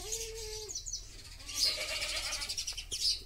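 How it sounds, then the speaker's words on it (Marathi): Sparrows chirp in short high bursts around a farmyard, with a goat bleating nearby early on and quieter rustling in between; the calls are moderately close and come in clusters. "चिमण्या चिव चिव चिव चिव।"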